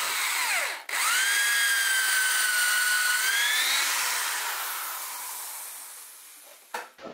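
A power drill whines steadily at high pitch as its bit bores into wood, held at a constant speed for several seconds before slowing and winding down, close and loud with no voices; the drilling is done while preparing a woodturning lathe chuck for turning a bowl.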